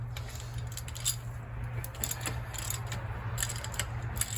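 Nuts being undone on a bulldozer transmission with hand tools, giving a run of light metallic clicks, ratcheting and clinks, close up over a steady low engine-like hum.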